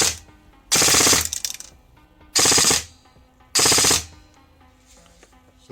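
A T238 28K brushless motor on 7.4V drives an airsoft gun through three short full-auto bursts, each a loud, rapid buzzing rattle lasting about half a second, with quiet gaps between them and no talking.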